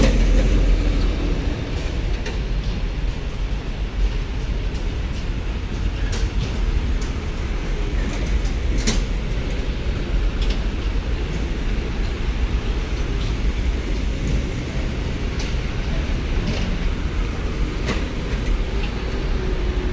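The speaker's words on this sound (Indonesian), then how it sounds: "Malam ini kendaraan TNI ya telah turun dari kapal ekspres" Military vehicles roll off an express ferry at night at Bakauheni port, a steady loud rumble of heavy engines with scattered clanks and rattles throughout.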